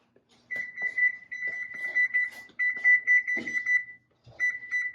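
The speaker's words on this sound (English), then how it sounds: "I'm gonna throw my timer on because I like to walk away from stuff." A kitchen timer beeps as its buttons are pressed while setting it for an oven-baked tamale pie, giving long runs of rapid electronic beeps in several bursts with short pauses between, close and fairly loud.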